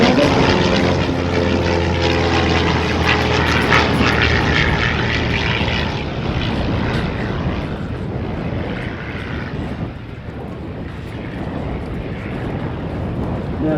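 A RAAF CT-4 propeller training plane drones loudly overhead, its engine tone steady at first then fading slightly as it passes, with no voices.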